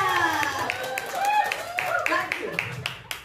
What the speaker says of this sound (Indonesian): Tepuk tangan buat Bu Mariana